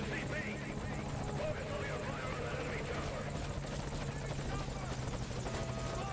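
A helicopter in the video game Metal Gear Solid V: Ground Zeroes comes in to land, its rotor chop a steady, moderately faint drone beneath a speaking voice.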